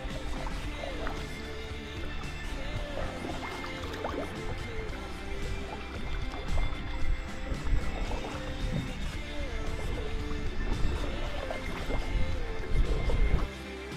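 Paddling a canoe on a lake, a continuous busy wash of water sloshing and dripping around the hull with irregular splashes from the paddle strokes, fairly close and moderately loud throughout.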